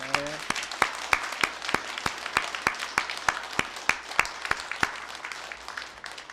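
A church congregation applauds a solo singer steadily for several seconds, sharp claps overlapping in a dense, fairly close patter with a brief tone at the very start.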